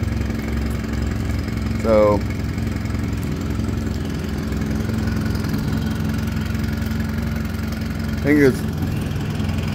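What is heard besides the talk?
Mercury (Yamaha) 9.9hp 4-stroke outboard motor idling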